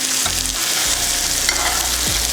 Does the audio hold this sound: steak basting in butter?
yes